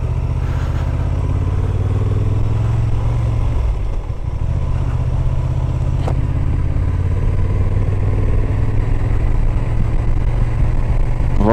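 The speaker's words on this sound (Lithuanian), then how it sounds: "Labai minkštai važiuoja motociklas" A Honda Transalp 750 motorcycle riding along a forest gravel road, its steady mid-pitched engine drone loud and continuous with a brief dip near four seconds, plus faint clatter from the surface.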